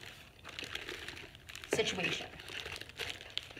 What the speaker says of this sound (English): I'm going to put the plastic bag into the cup just by itself.